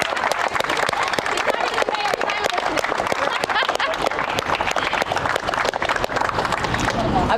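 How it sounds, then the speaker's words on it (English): A lively crowd at a youth and teen center mural debut in Fitchburg claps and cheers continuously, a dense, loud wash of applause with some voices mixed in throughout. "let's give him a round of applause"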